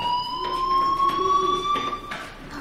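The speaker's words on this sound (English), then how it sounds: "Hey, do you hear that fire alarm?" A fire alarm in the Life Is Strange video game sounds as a steady, loud electronic tone with a faintly rising pitch, held continuously and pulsing slightly.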